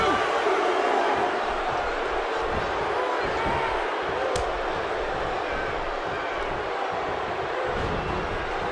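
A large wrestling arena crowd roars steadily in the video game WWE 2K16, a dense, unbroken wash of cheering with no clear peaks, heard up close throughout.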